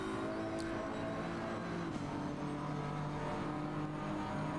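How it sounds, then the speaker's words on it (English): Simulated BMW M4 GT3 race car in a GT3 championship racing game, its engine holding a steady, sustained drone at a constant pitch, loud and continuous throughout with no pauses. "That's the M4, you can hear the engine difference."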